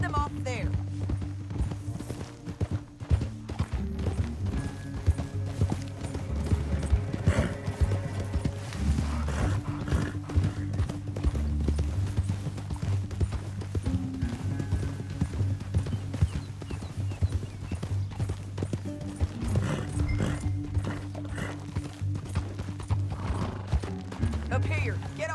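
Rhythmic clip-clop of horse hooves runs throughout with occasional whinnies and mechanical clatter, mixed under a dense Red Dead Redemption 2 game soundtrack.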